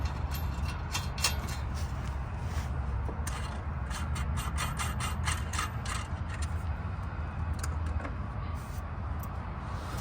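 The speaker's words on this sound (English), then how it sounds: "Let's put the washer and the nut." Ratchet tightening a nut and washer onto a suspension knuckle in a busy auto repair shop, rapid bursts of metallic clicking close by over loud steady workshop noise.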